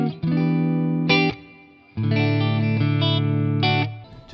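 Clean electric guitar played through an IK Multimedia Tonex pedal modeling a Twin amp with a touch of reverb, ringing sustained chords in two phrases with a short gap between, close and loud with no talking.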